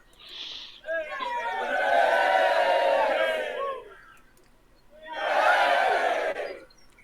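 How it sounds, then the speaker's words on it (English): A fantasy-game crowd of Dragon Guard fighters lets out two swelling cheers, the first long and the second shorter, loud and close, with a brief sharp sound before them. "they cheer"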